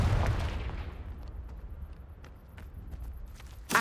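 Confringo fire spell blast in Hogwarts Legacy: a loud booming burst at the start that rumbles and decays over a few seconds, followed by faint scattered clicks and a short sharp hit at the end.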